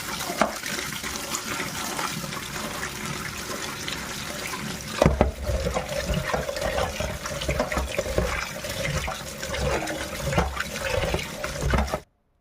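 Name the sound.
washing freshly caught fish in running water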